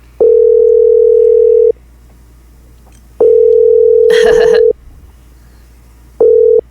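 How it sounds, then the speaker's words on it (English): Telephone ringback tone on an outgoing call, three long even beeps separated by silences, with a brief burst of digital noise between the second and third. "unfortunately Gearus won't pick up his damn phone. I'll try to call him again."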